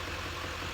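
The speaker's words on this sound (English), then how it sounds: "just letting the engine run for a minute here" A 2011 Duramax diesel engine idles steadily at close range, a constant low rumble with a smooth mechanical hum, no talking over it.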